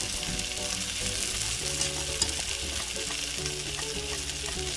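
Sausage and peppers with polenta frying in a pan on low heat while being stirred, a steady close sizzle with soft scraping and stirring movements underneath, continuous throughout.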